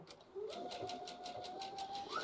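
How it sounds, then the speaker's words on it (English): A Brother BQ1350 quilting sewing machine stitching with the speed control set to change stitch width, giving a steady rapid mechanical chatter of regular needle strokes over a rising motor whine, close and continuous. "Okay, so I'm going to start sewing."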